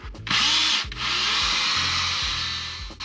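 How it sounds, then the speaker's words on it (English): Power drill with a scrubbing brush attachment works on the wet center armrest of a Toyota Tacoma, a loud close whirring motor that runs in two long bursts with a brief stop between them. "I get my drill with my brush, wet the brush"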